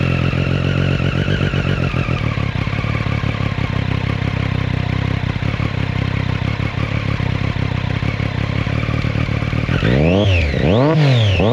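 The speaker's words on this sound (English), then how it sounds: "it's powerful at the top and you can hear the exhaust note" A Triumph Daytona 675R three-cylinder sport bike's exhaust roars up close and loud, holding a steady, throbbing note before sweeping through rising and falling revs near the end.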